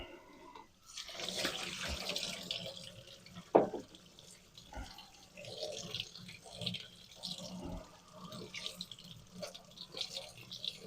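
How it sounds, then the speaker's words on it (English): Cold tap water runs while hominy is rinsed at a sink, a soft irregular splashing and trickling with intermittent louder splashes and clunks, fairly quiet throughout. "We just rinse with cold water."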